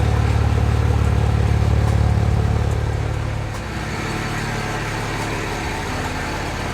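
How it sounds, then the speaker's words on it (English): A BMW 135i built as a 1M clone, with twin-disc clutch, idles through its exhaust in a steady, loud, close drone that drops slightly in level partway through, with no talking. "Exhaust sounds good."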